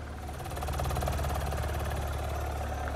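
Capristo exhaust on an Audi RS5 with a 2.9 V6 twin-turbo, burbling at a steady, loud idle with a deep low rumble and no speech.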